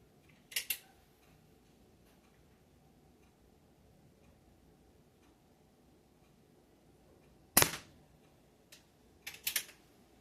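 A Umarex Ruger Mark IV .177 air pistol fires a single sharp, close crack, followed a moment later by a couple of smaller clicks, against a quiet background.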